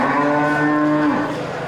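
A young bull being fattened for beef, at a cattle market, lets out a single loud, close moo lasting just over a second and then tails off, with no talking.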